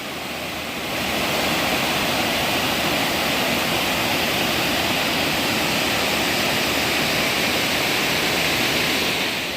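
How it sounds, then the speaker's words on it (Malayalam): Thriparappu waterfalls roar as water rushes over, a broad, steady wash of noise that swells in after the first second and then holds loud and unbroken, with no voices. "പിന്നെ അതുപോലെ ഇങ്ങനെ വെള്ളം ഇങ്ങനെ ഒഴുകി പോകുന്നത് കാണാൻ നല്ല രസമാണ്."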